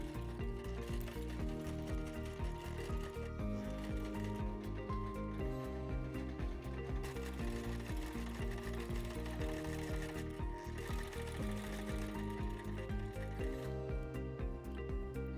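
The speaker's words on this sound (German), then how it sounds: "Nähe einmal außen herum." Sewing machine stitching all the way around a fabric handbag, a steady continuous mechanical whir with dense rhythmic needle clatter running unbroken at moderate, close level with no talk.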